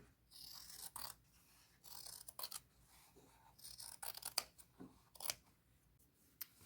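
Scissors snipping through fabric to cut out pockets for a purse, a series of soft, close crisp cuts and rustles in irregular bursts, quiet and without talk.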